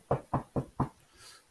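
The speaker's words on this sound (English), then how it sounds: "The bank man comes knocking." Four firm knocks on a door in an even, quick rhythm, close and loud, followed by a faint soft rustle, with no talking.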